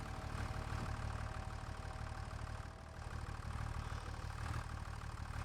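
A hefty tractor idles in Farming Simulator 25, giving a steady low engine rumble that holds evenly throughout at a modest level with no talking.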